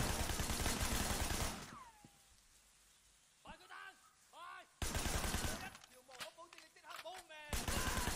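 Gunfire in the video game Sleeping Dogs: loud bursts of rapid shots open and close the moment, separated by a quieter stretch where someone talks over softer game sounds.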